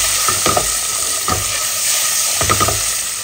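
Peeled boiled eggs fry in a pan with a constant close sizzle, broken by a few short scraping stirs at irregular intervals; no one talks.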